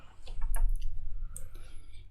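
A few quick mouse clicks while a coupon is added in a Shopify store admin, crisp and close, spaced out over a couple of seconds with faint breathy background.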